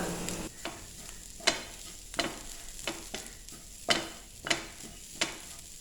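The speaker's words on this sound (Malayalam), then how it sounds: "അതിനുവേണ്ടി നമുക്ക് ആദ്യം കുറച്ച് തേങ്ങ ഒന്ന് വറുത്തെടുക്കണം." Grated coconut roasts in oil in a pan for a varutharacha chicken curry, a soft low sizzle punctuated by a series of sharp, irregular scraping strokes as it is stirred.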